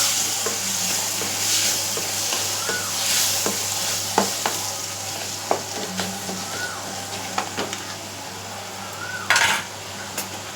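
Tomato and green chilli sautéing in oil in a pan, with a steady sizzle and a spatula scraping and clinking against the metal at irregular intervals. It is close by, and no one speaks.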